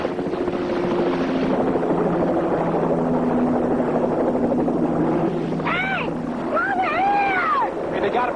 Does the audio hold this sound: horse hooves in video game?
no